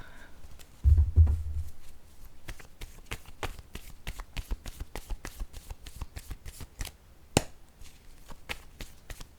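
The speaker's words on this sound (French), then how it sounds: "Allons-y avec deux cartes maintenant de mon jeu haut." A deck of cards being shuffled during a French-language tarot reading, a rapid run of crisp riffling flicks and taps repeating steadily, close to the microphone and without talk.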